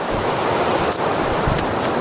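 Water pours over the Kareda dam in an overflow, a steady, loud rushing roar that holds constant for about two seconds without any voices.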